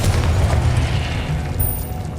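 A Confringo blasting spell exploding in Hogwarts Legacy, a loud, low booming blast that rumbles and fades over about two seconds.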